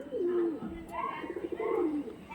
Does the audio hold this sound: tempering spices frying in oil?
no